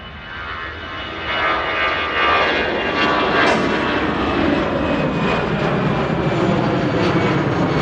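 A jet airliner departs Manchester Airport, its engines roaring loudly and steadily as it accelerates, with a broad rushing sound that rises in strength and holds.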